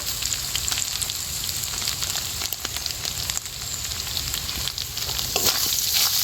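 Chicken patty filling sizzling and frying in a pan with garam masala powder, steady crackling hiss with stirring scrapes, close and continuous without talk.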